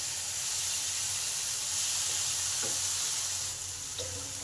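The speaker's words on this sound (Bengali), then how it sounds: "আলুটাও ভালো করে সঙ্গে কষে নেব।" Fried potato pieces sautéed in spiced masala in a pan for a restaurant-style soya curry, giving a steady, close sizzle and hiss with a few faint stirring scrapes.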